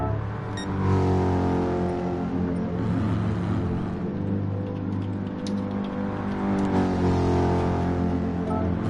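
A racing video game car at Interlagos holds a loud, steady engine drone with rising and falling revs as it spins through donuts. Tyre scrubbing and engine tone run continuously, with no voices.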